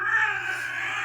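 A pet cat, held and turned onto its back, gives a short, close, tense vocal sound, a brief sustained moan or growl with no speech over it.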